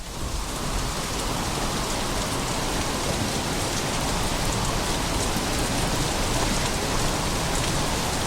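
Steady heavy rain pours down in a dense, unbroken hiss that stays loud and even throughout.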